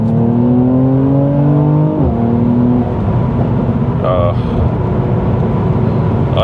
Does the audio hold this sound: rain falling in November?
no